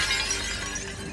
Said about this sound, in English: the glass broke away